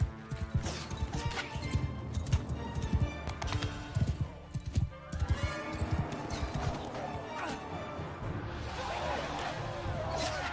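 Horse hooves in the video game Mount & Blade, a rapid, uneven clip-clop of galloping steps over game music and effects, fairly loud and continuous before giving way to a wash of other sounds.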